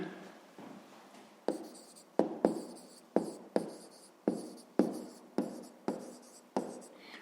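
Pen on paper in a handwritten maths exercise, a series of about a dozen short scratchy strokes in an irregular rhythm, close and fairly quiet, with no voice over them.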